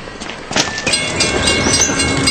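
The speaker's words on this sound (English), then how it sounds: "Trains are big, deceptively fast, and can't stop quickly." A train rolls loudly past on railway tracks nearby, a steady rumble with rhythmic clickety-clack of wheels and a faint horn-like tone, no voices.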